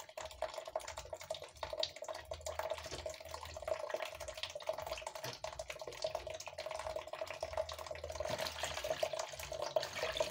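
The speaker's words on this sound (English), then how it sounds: "we have to wash our fish, our smoked fish." Water splashes and trickles as smoked fish is washed by hand in a bowl or sink, a soft, uneven wet sloshing heard close by for about ten seconds with no speech.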